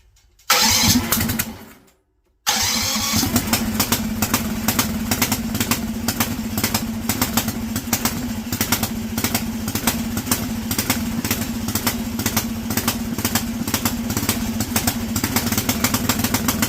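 A go-kart engine with a 24 mm bored three-circuit racing carburetor is started on choke with no clutch. After a brief crank and a pause it catches and runs loudly and steadily at close range, with a rough, pulsing idle.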